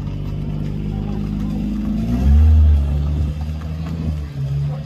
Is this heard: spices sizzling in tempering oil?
no